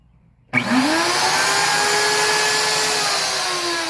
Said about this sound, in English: turn the saw motor off, turn the router motor on